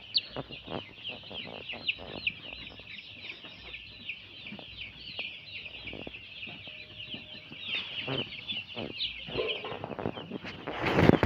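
Broiler chickens on a poultry farm cluck steadily and densely at close range, a busy overlapping chorus of short calls with occasional louder squawks, rising toward the end.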